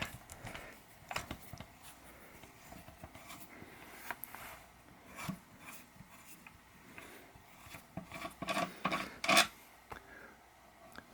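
A SZSYD thread restorer file scrapes over damaged bolt threads in short, quiet rasping strokes, faint and irregular, with a few sharper scratchy bursts near the end.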